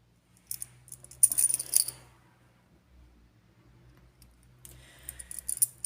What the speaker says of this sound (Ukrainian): Це ключі від хати, від його хати.